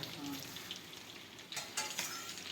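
Coconut pieces sizzle steadily in a hot pan for coconut chutney, with scraping stir strokes rising over the frying about halfway through.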